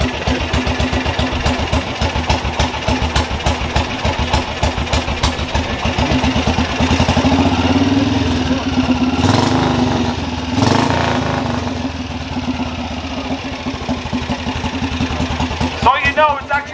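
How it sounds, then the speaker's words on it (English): Single-cylinder 500cc motorcycle engine idling close by, a steady low thumping pulse that briefly rises and falls in revs midway before settling back to a slow, loping idle. "So you know it's actually a 500cc single cylinder motorcycle"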